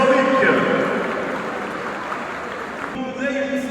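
Applause at a university graduation ceremony for economics graduates, a steady wash of clapping mixed with amplified voices, fading slightly before someone speaks over it near the end.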